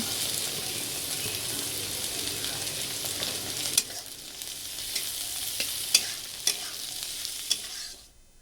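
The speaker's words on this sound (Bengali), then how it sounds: "পেঁয়াজ কাঁচা লঙ্কা সব একসাথেই দেওয়া হয়ে গেল এখন এগুলোকে ভেজে" Onion, capsicum and green chilies fry together in a pan, a constant sizzle under repeated stirring clicks and scrapes that grow sharper toward the end before the sound cuts off abruptly, with no voices.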